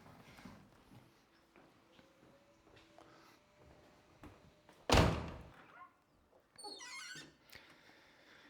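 The trunk of a 1984 BMW 635 CSi comes open with quiet handling noises, a single sharp latch thunk, then brief creaks and squeaks as the lid lifts.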